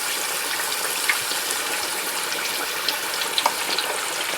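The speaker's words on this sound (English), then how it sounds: "as you're frying it, it's gonna pop a little bit because it is turkey" Turkey pieces deep fry in hot oil, giving a steady, dense sizzle with occasional small pops throughout.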